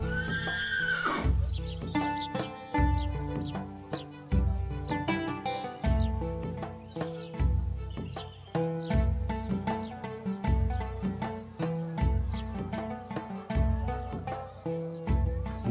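A horse whinnies loudly at the start, then a steady run of rhythmic hoofbeats and repeated musical hits continues over a music score in an animated scene, with no talking.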